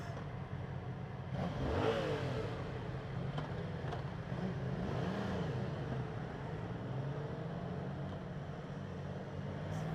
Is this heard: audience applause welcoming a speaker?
no